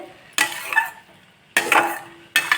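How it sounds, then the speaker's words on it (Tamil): Three separate bursts of a spoon scraping and stirring a thick mixture of red poha and dal in a pan for kozhukattai, each lasting about half a second with brief quiet gaps between them. "பருப்பும் அந்த அவலும் எல்லாம் சேர அளவுக்கு நல்லா கொஞ்சம் குழையிற மாதிரி நம்ம கிளறி கொடுத்துடலாம்"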